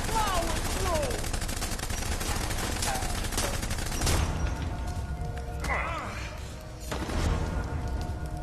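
Gunfire in the Blues and Bullets video game: repeated sharp shots and bursts cut through a busy scene with mechanical clatter, loud and close, with voices speaking over the shooting.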